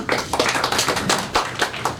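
An audience claps for guests at a film trailer launch press meet, a dense burst of hand claps from a crowd, loud and steady throughout with no speech.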